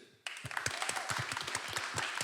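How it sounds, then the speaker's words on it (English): Audience applauding at a London Climate Action Week hangout, a burst of clapping starting abruptly and continuing as many hands in a room, moderately faint and without talk. "Big round of applause for these two"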